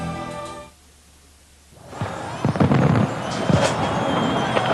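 Fireworks burst over the Eiffel Tower in Paris at the 1999 New Year's Eve millennium celebration, loud rapid booms and crackles rolling in after a brief lull, with crowd noise underneath.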